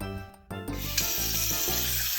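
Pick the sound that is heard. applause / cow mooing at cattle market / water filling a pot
water filling a pot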